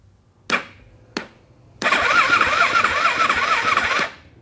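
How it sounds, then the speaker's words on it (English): A motorcycle on a weak battery: two sharp clicks, then the starter cranks the engine sluggishly for about two seconds in a whirring, wavering grind that fails to catch, heard up close with no talking. "that is not spinning that motor fast enough"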